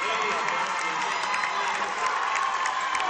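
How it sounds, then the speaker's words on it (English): A crowd at a boys' varsity high school basketball state tournament game roars and cheers in a gym, a dense, sustained wall of shouting with voices talking over it. "And the crowd erupts."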